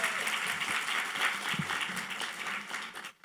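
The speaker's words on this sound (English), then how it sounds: "We should all give her a big round of applause." Audience applause at a heart health symposium fills the room as dense, steady clapping that fades out near the end.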